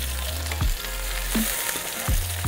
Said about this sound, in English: a little bit more searing, and it should be ready to throw in our garlic and our rosemary